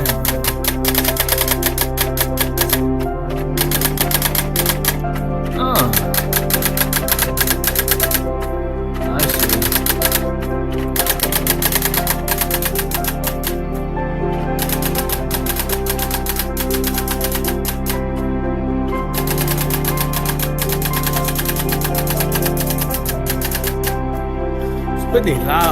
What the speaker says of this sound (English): This typewriter was really loud.